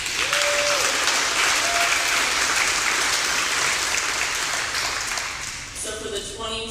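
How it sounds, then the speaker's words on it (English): Dense, sustained applause fills the room at a middle school honors and awards assembly, loud and continuous from a large crowd before it fades toward the end, with faint voices underneath. "so we'll give her a round of applause too."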